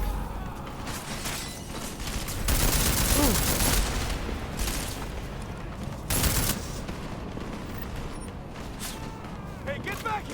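Gunfire in the game Deus Ex: Mankind Divided, two loud bursts of rapid shots a few seconds apart over steady background noise, with voices talking in between.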